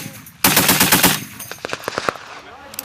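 A 6.8mm next-generation machine gun fires a loud full-automatic burst of about three-quarters of a second, followed by scattered sharp clicks and handling knocks close by.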